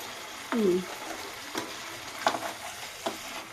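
Snakehead fish curry with mustard paste and added water sizzles softly in a pan, a faint steady hiss broken by a few scraping stirs and brief clinks of a utensil.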